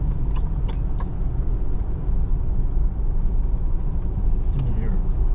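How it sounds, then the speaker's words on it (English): A car's interior road noise with a steady low rumble throughout, heard while driving up a mountain road in autumn, with faint clinks and brief bits of speech over it. "Why is the car making that noise?"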